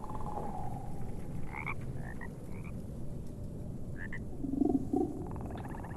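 Frogs croak in the video game Mortal Shell, a scattering of short, throaty calls spread across a steady ambient game background, moderately close and fairly loud.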